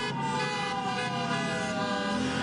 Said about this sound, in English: the sound of car horns